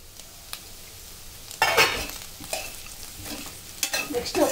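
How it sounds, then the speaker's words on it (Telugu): Cauliflower for gobi fry sizzles in a pan while a spoon stirs it, giving scraping, clattering strokes over a continuous hiss, close and moderately loud, with bursts of stirring coming in uneven waves. "ఒకసారి మంచిగా కలుపుకొని మూత పెట్టుకొని ఒక 2 మినిట్స్ కుక్ చేసుకోండి."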